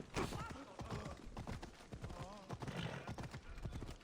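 Horse hooves clip-clop at a walk through Sparta in Assassin's Creed Odyssey, a steady close rhythm with an occasional whinny, mixed with game ambience and voices.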